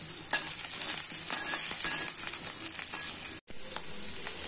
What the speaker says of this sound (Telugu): ఇప్పుడు ఈ ఉల్లిపాయ ముక్కల్ని కొద్దిగా దోరగా వేగేంత వరకు ఫ్రై చేసుకుందాం